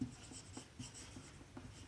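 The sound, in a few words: writing on a board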